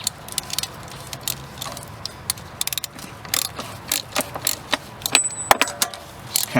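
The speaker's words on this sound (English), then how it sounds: "I'm going to tighten these from the center out." A hand ratchet clicks steadily as it snugs the valve cover nuts on a four-cylinder Toyota Camry engine, with rapid close-up pawl ticks in short runs and small pauses between strokes.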